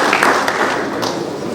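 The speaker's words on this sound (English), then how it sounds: "can you please give yourself a round of applause?" Brief, dense applause from a gathered audience at a federal government agricultural investment event, loud and steady through the short stretch.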